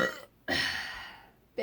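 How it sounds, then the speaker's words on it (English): Two loud, close burps from a person in a burping contest, a long drawn-out belch after a short one, with the start of another at the end. "That was like two separate burps."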